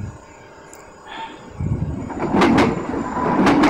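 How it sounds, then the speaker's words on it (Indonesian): An airport rail link train bound for Adi Sumarmo International Airport near Solo passes close by, a low rumble building to a loud, sustained rolling roar with sharp bursts of wheel and track noise. "kereta api Bandara Internasional Adi Sumarmo"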